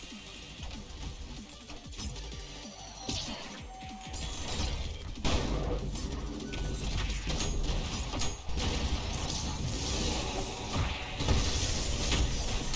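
Stone enemies in a video game burst into a noisy rage, a dense clatter of crashing, grinding hits and whooshes layered over loud game music and effects throughout.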